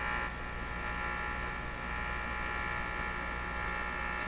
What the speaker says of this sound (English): variations in the signal strength coming from the sweep into the radio is causing those sounds